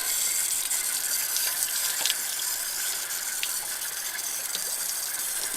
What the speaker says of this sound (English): So just looking at some of the water coming out, there is a lot of sludge in the bottom, along with some other mineral deposits.